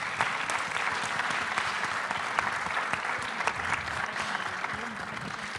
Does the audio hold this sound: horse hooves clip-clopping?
no